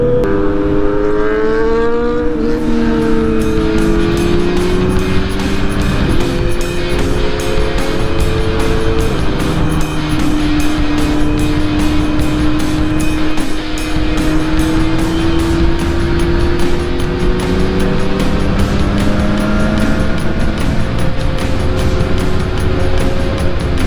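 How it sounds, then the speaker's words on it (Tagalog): Two Kawasaki Z900 motorcycles, one a 2025 Z900SE, with loud aftermarket-sounding exhaust run steadily nearby, engine tones rising and falling as they rev and cruise continuously with no talk. "Ang lalakas ng exhaust nitong dalawang to."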